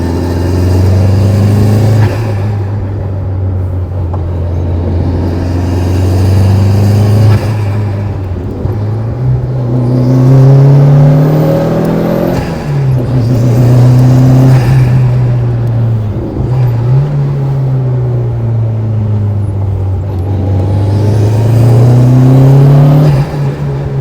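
A $600,000 rally car accelerates hard along a closed Alpine road in Italy, its engine loud and close, the pitch climbing and dropping through repeated surges over a steady roar.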